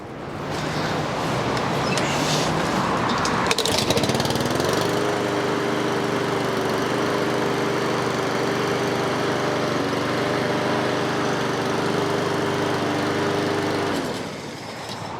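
A Honda lawn mower engine catches after some rough sputtering and settles into a steady, loud, close running drone that holds for about ten seconds before cutting away.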